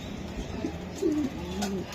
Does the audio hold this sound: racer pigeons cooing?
yes